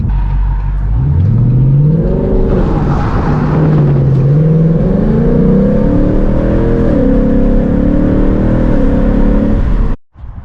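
A car with a Gen 3 Coyote engine accelerates hard in a roll race, its loud, close engine rising through revs with gear changes before cutting off abruptly.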